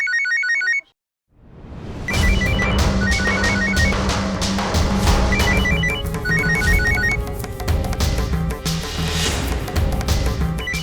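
A telephone rings with repeated bright electronic trills over a loud, dense dramatic music bed in a Hindi TV serial scene.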